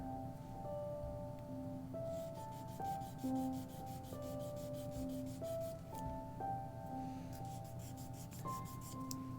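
A nail file rasps rapidly back and forth across fingernails in two bursts of quick rhythmic strokes, set against soft background music.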